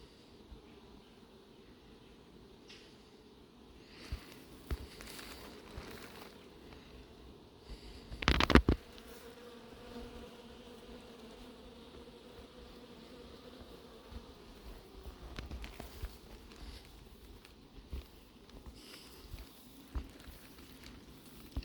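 Honeybees buzz around a hive in an apiary with anti-hornet nets, a soft continuous hum with individual bees droning past close by, one loud flyby in the middle.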